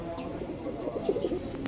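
Tula pigeons cooing in a loft, soft low murmuring coos running steadily and close over a brief stretch.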